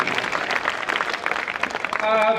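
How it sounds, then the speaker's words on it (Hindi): An audience at a mushaira poetry recital in Varanasi breaks into a dense wash of applause that continues steadily beneath a voice speaking over it. "एक बार आप लोग अपने लिए जरूर ताली बजा दें और यहाँ से लेके पूरे आखिरी रो तक ताली बजनी चाहिए"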